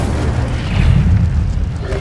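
A loud, close fire spell blast from a video game, a deep booming whoosh that swells and sustains for about two seconds.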